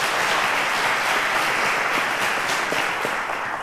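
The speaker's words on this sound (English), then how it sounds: "A round of applause to all three of them." Sustained audience applause on a quiz show for three contestants, a dense steady wash of many hands clapping that holds evenly for the whole stretch with no voices over it.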